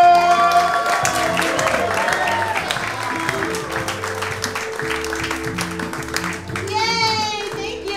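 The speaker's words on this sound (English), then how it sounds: "applause, make a lot of noise for Candi Rodriguez!" Applause and cheering from a stand-up comedy audience as Candi Rodriguez is brought on stage, a dense clapping wash under a bed of music, with crowd noise and a voice rising near the end.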